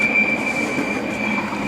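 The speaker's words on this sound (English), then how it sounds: "now that the train's gone" A train rolls past near a parked 1994 Mercury Tracer, giving a steady, loud rumble with a high, sustained wheel squeal riding over it throughout.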